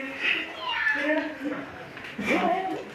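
A voice imitates a cat in a classroom, giving a couple of drawn-out meows with a short pause between them, close to the listener.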